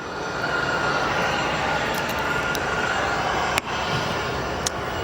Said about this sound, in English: We have our next arrival, American Airlines Flight 2756, an Airbus A321-200.